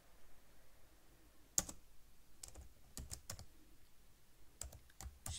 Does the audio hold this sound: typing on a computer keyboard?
yes